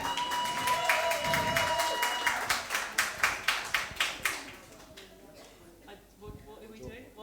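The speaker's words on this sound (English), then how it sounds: "Another round of applause for Kat and Piers, people." An audience at a live spoken-word event claps, a dense burst of applause thinning into slower, more rhythmic claps before fading out, with voices mingling beneath.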